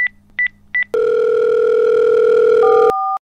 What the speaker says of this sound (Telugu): సరే అయితే మన కమలకి ఫోన్ చేస్తాను, ఆగు.